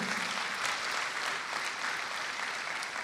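A church congregation applauds to acclaim the Lord, with steady, dense clapping filling the space at an even level with no break and no voices standing out.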